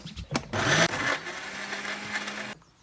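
A kitchen grinder blends fresh coriander, ginger, green chilli, garlic, salt and water into a Goan xacuti paste, whirring loudly in a steady burst after a short start, then cutting off near the end.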